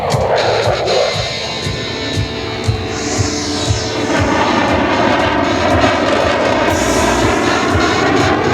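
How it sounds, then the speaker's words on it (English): A US Marine Corps F-35B Lightning II jet flies an aerobatic demonstration with rolls over the sea at an air base friendship day, its loud, continuous engine roar rumbling steadily throughout, without speech. "F-35 は比較的長時間背面で飛行することができます。"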